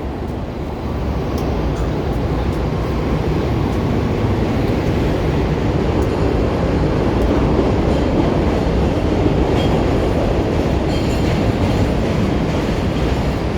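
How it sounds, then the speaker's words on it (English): A train passes through downtown Chicago, a loud, continuous rumble and clatter of rail cars that stays strong from start to finish. "then you can hear the train, and then you can see the train coming."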